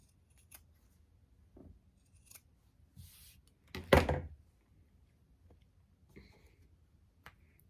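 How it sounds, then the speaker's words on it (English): Sewing scissors trim the corners of freshly sewn fabric, giving a few faint, sparse snips in a quiet room, with one louder cut standing out among the soft clicks. "I'm going to go ahead and trim off the corners here just to reduce some bulk when we turn it."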